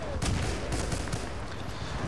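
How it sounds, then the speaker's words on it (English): Rapid, muffled gunfire from explosive sniper rounds in Battlefield Bad Company 2, several quick thumping shots in a row over a dense, noisy battlefield background. "This is like explosive rounds I'm firing."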